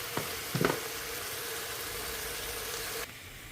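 Sambar poured into a hot pan: a couple of brief splashes, then a steady, fairly quiet sizzling hiss close by that cuts off abruptly after about three seconds.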